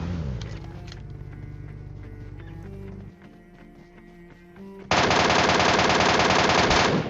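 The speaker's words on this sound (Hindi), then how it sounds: "इसीलिए एकदम भून दिया गया MK14 की गोलियों से" Rapid gunfire from an MK14 rifle in a battle royale video game, preceded by quieter in-game movement and footstep noise, then a loud sustained burst of shots at close range.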